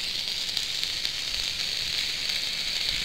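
Steady, close sizzling from bacon-wrapped hot dogs cooking on a George Foreman grill without oil, a continuous crackly hiss with no pauses.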